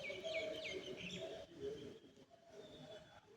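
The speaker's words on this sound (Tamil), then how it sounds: "அதுதான் பறைய சத்தம் காலையில்" Several birds chirp and coo at a distance, overlapping softly in an open outdoor space with faint ambient hum.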